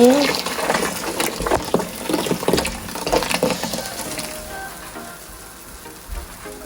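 Hot water is poured over soya meat to soak it, in a splashy, gushing stream that gradually thins and quiets, with some talking in the background.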